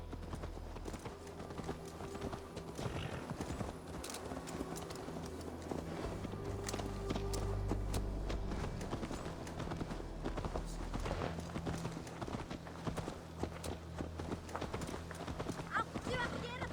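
Horse hooves clip-clop in Assassin's Creed Valhalla, a steady walking rhythm running under game music and character dialogue for the whole stretch.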